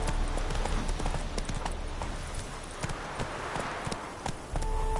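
Horse hooves clip-clop at a steady riding pace in The Witcher 3 Hearts of Stone, loud and close over continuous ambient noise.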